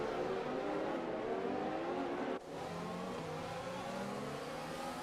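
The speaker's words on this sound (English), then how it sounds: "you can hear the engine not really revving out in the traction zones" Formula 1 car engine in a racing video game at the Shanghai circuit, revving loud and steady with a sharp gear-change dip partway through, then climbing again under constant drone.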